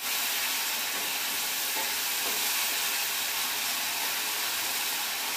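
A mixture stirred in a pan until the oil separates, giving a steady broadband hiss of sizzling with faint scraping underneath, continuous and fairly close, with no voices.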